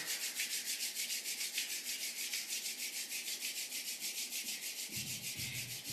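Hands rubbed briskly together during a gentle qigong session, a close, soft rhythmic swishing with quick even back-and-forth strokes that continues steadily, with no talking.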